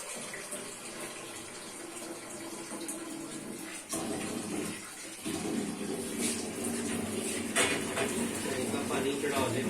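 Cold tap water runs steadily over boiled eggs set under an open kitchen faucet, a continuous splashing rush close by that briefly dips and then resumes a little louder.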